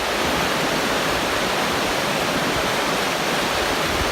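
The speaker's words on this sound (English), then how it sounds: "So there she is, the North Umpqua River right behind us." The North Umpqua River flows on a forest trail, a loud, dense, steady rush of water that fills the whole stretch without any voices.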